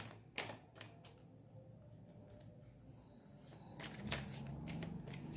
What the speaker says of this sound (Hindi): गाइस एक दो कार्ड ही निकालेंगे एंजल्स टैरो डेक से।